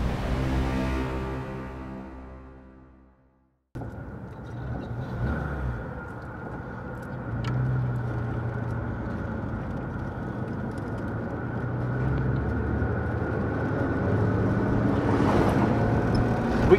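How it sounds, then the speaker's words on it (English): A 1947 Lincoln Continental Cabriolet Mk. 1 with a smooth V12 engine and column-shift three-speed gearbox drives along, a steady low engine drone and road rumble starting after a brief silence and holding on continuously. "Smooth 12-cylinder V12 motor plant."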